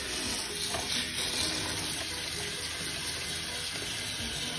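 Water pouring steadily into a pot holding Boletopsis mushrooms and fiber for dyeing, a continuous close splashing rush without pauses, no voices.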